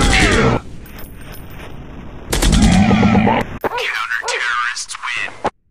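Rapid automatic gunfire in the mobile action shooter Commando Strike, loud sustained bursts with brief gaps, mixed with game effects and voice lines.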